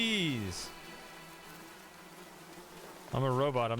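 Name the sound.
bees buzzing in the video game The Talos Principle II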